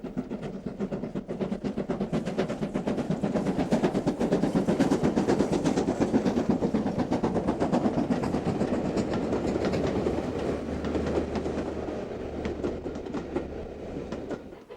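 A Black Five steam locomotive rumbles steadily along the rails, its wheels clicking in a rapid rhythm, loud and close as it passes, with no voices.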